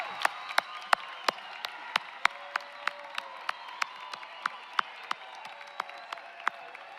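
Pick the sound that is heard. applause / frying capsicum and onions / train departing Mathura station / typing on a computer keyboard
applause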